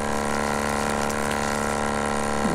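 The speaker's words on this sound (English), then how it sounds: "Now look how high we are pumping." Water pump running steadily as it pushes fresh filtered water up into the tank of an overlander 4x4 truck, a continuous close mechanical hum with a flowing, watery texture and no talk.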